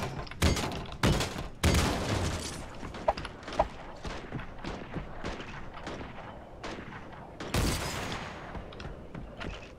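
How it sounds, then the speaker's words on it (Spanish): Gunfire in the video game Creative Destruction, nearby heavy shots and rapid bursts booming irregularly, some louder blasts standing out against a constant background. "¿De dónde vendrán esos tiros? Suenan cerca"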